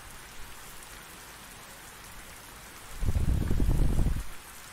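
Steady rain falls in a trucking game while a Mack Anthem hauls a Wesco hay trailer, a soft constant hiss that swells into a heavier, louder downpour for a second or so before easing back.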